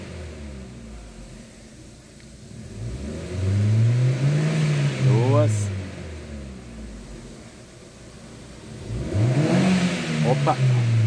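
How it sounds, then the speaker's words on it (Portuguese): A Jeep Renegade engine is revved twice from idle, each rise climbing and falling in pitch over a few seconds, close and fairly loud, with a faint beep between the revs. "Dei na partida, vou acelerar."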